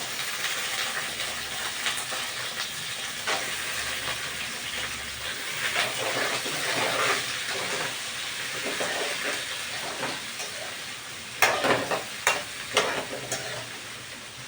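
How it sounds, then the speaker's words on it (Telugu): Drumstick pieces and green chillies frying in a pan with onions: a continuous soft sizzle and stirring noise, then a few louder clatters of utensil against pan near the end, with no voices. "ఉల్లిపాయలు వేగకుండానే మునక్కాయలు వేసేసాను"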